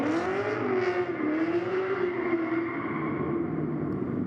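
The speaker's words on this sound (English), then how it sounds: "That car sounds proper." Drift car engine revving hard and steady during a competition run at Agassiz Speedway, a loud, sustained high-pitched wail with shifting pitch and continuous crowd-free roar, no talk.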